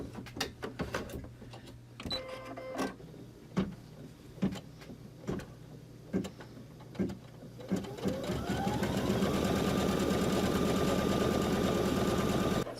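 An embroidery machine stitches vinyl held in the hoop for an in-the-hoop bumble bee zippered bag, opening with scattered clicks and taps, then settling into a steady, loud, continuous mechanical hum and rapid stitching for the last several seconds.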